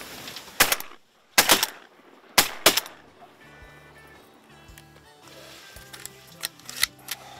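Pointer Phenoma shotgun firing on a pintail duck hunt, with four sharp, loud shots in two close pairs, then a quieter stretch of mixed clicks and background sounds.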